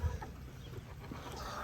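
Chickens in a backyard coop give soft, faint clucks and low murmurs, a few quiet calls scattered over a hushed background.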